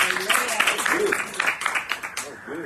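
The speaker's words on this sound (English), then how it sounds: "I give Bishop Lee a clap for prayer" A church audience claps after a prayer, a scattered round of applause under a speaking voice that carries over the clapping, moderately loud and close.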